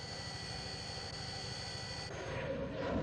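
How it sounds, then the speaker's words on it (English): Harrier jump jets fly mock air attacks over Belize City, heard as a steady, fairly distant jet roar that holds evenly and swells slightly louder toward the end, with no talking. "Harrier jump jets, the mainstay of the British Defense Force, carry out mock air attacks against Belize City"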